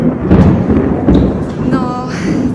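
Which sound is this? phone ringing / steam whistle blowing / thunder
thunder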